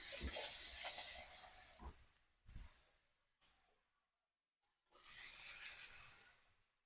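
Loud hiss of liquid hitting a hot pan for smothered potatoes, with a bay leaf in the pot, fading in short bursts before a second strong sizzle swells up near the end.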